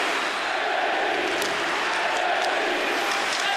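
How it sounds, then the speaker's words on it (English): A big ice hockey crowd in Ostrava cheers on the home team: a dense, continuous roar of voices and applause, steady and distant-sounding, filling the arena. "loud, big crowd here in Ostrava cheering on the home team."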